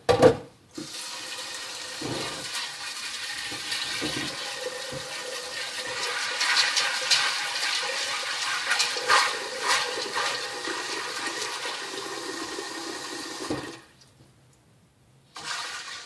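Cold water pours steadily into a bowl of dried fava beans being rinsed, a continuous rushing splash lasting about thirteen seconds before stopping, then briefly resuming.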